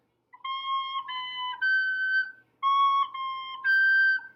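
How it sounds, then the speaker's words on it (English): Two brief recorder phrases with a wavering, squeaky tone from a tiny leak at the thumb hole, slipping and jumping upward, played close with a short gap between them. "Sometimes the thumb has a tiny leak, and then it sounds like this"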